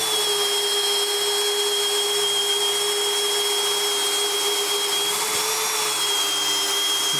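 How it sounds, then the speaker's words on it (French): A Milwaukee M18 cordless drill runs at full speed, boring a hole with a steady, high-pitched whine that holds unbroken and loud, close by with no talk. "Je vous invite à percer, par exemple, ici."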